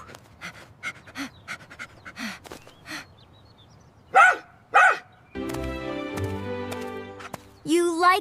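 A small puppy pants in quick, soft bursts, then lets out a few sharp close barks, followed by a long toy-like musical tone and another yip at the end.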